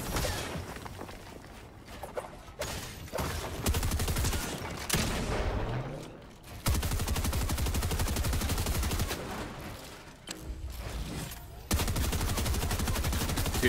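Sustained SMG fire in Fortnite, with dense rapid bursts and volleys that come and go and break off at times. Some shots sound close and loud, and faint footsteps and mechanical clatter sit between them.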